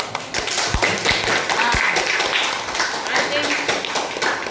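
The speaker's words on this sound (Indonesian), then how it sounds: "tepuk tangan" A classroom group claps hands in a lesson, with sharp irregular taps and claps scattered through a few seconds, some louder and closer, mixed with children's voices and chatter.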